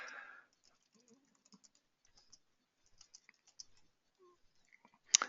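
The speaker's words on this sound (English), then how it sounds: "excuse my typing as we go along" Quiet keyboard typing at a computer: scattered light clicks and short bursts of keystrokes, faint and close, following a brief voice at the start.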